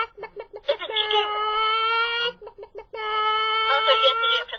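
A person's voice imitates a chicken, making a drawn-out, strained clucking squawk in two long bursts with a short gap, close and loud.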